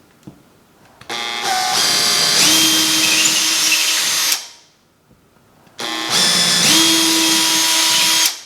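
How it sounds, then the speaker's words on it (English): A power drill bores holes through drywall in two loud, close bursts of whining motor noise, each a few seconds long, separated by a brief pause as the motor spins down. "I'm gonna drill bigger holes just to get through the drywall."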